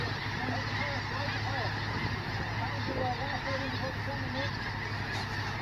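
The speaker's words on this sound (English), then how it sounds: "It's a snow geese tornado." A large migrating flock of snow geese honks continuously, a dense overlapping chorus of calls carried over a steady low wind-like rumble.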